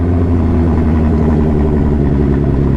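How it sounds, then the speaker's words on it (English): A 1999 Suzuki Hayabusa with an RCC Turbos Stage 1 turbo kit idles close by with a deep, steady, slightly lumpy rumble, continuous throughout. "this is my 1999 Suzuki Hayabusa with a RCC Turbos Stage 1 turbo kit"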